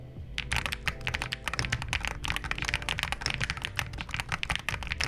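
Rapid, continuous keystrokes on a Hall-effect gaming keyboard, close and crisp with a steady, busy rhythm of clicks and clacks, heard alone without talk.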